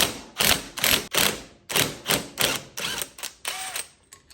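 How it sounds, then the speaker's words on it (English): A wheel stud is tightened on a Ford F250 hub assembly with a ratcheting tool, a series of close, loud mechanical clicking bursts in a steady rhythm, about a dozen strokes with short pauses, no talking. "now you can go ahead and tighten that stud up"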